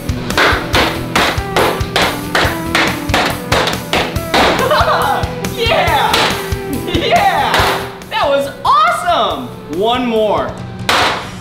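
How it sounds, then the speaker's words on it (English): A hammer pounds a big bar of chocolate with a rapid run of sharp, close thuds and cracks, then scattered heavier blows while someone talks excitedly and exclaims over the smashing. "This hammer is only used to smash this big bar of chocolate."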